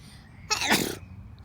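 A single sharp human sneeze bursts out close to the microphone, loud and brief against a quiet background.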